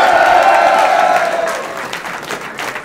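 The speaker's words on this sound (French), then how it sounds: "Applaudissez la performance!" An audience at a French rap battle event in Lyon bursts into loud, dense applause and crowd cheering, strongest at first and then thinning out into scattered claps.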